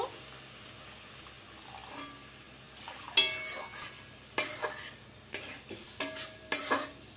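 A spoon stirring and mixing a sizzling sauce in a cooking pan for a Bengali doi katla fish curry, with repeated scraping clinks against the metal over a faint simmering hiss, close and moderately loud.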